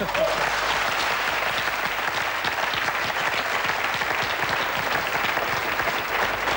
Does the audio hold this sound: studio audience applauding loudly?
yes